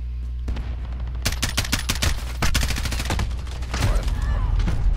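Gunfire crackles in Call of Duty Modern Warfare 2019, with rapid automatic bursts and scattered single shots in dense volleys over a low ambient rumble, some near and loud, others more distant.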